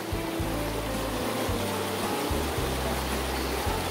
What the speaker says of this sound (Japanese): いやーもうすごいせせらぎの音がねすごい心地いいですね。